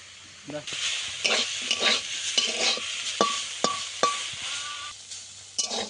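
A spatula scrapes and stirs through gourd leaves in a pan, cooking off the water, with repeated scraping strokes over a soft sizzle.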